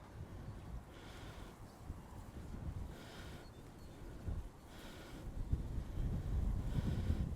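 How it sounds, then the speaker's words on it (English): Wind buffeting outdoors at a fishing spot in Scotland, low rumbling gusts battering the microphone, swelling and easing in irregular waves and growing stronger toward the end, with no talking. "So it is windy today"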